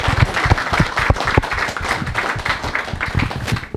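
An audience at an engineering talk applauds the panel, a close, busy mass of clapping that keeps a steady loudness for the full few seconds.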